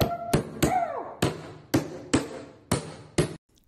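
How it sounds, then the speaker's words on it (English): Eight sharp hammer strikes nail down floor underlayment near a wall, landing at a steady beat with short gaps between blows, loud and close, with no talking. "Anywhere where I got close to the wall, I used a hammer like this."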